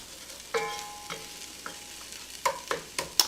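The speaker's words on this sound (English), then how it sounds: "we'll move it around in here, trying to make sure that everything gets nice and coated" Rice stirred in a pot for a one-pot fajita dish, with a quiet sizzle under intermittent scrapes and clinks of a utensil against the pot, the sharpest knocks toward the end and no talk.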